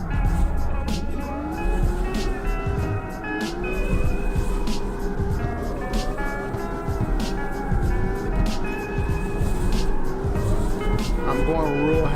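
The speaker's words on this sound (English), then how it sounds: "I'm going real heavy on the pedal, so you'll hear me over rev." A car engine screaming at high revs in the street-racing game CarX Street as the driver stays heavy on the throttle through a drift, a constant loud whine with shifting pitch, with a voice talking over it.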